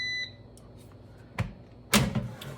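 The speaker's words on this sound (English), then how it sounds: "Our timer's going off." A kitchen cooking timer beeps briefly while a sausage quesadilla crunch wrap cooks at 400, followed by two louder clunks of handling in a quiet room.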